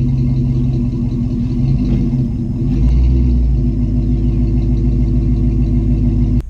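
A 1995 Ford Bronco V8 with headers, Flowmaster mufflers and 3.5-inch angle-cut tips rumbles steadily and deeply up close, with a brief swell in the low growl partway through and no voices.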